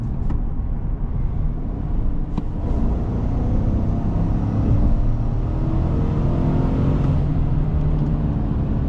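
A 2026 Chevrolet Silverado pickup truck is driving, with a steady low engine and road rumble inside the cab and a few faint clicks. The sound stays loud and even throughout.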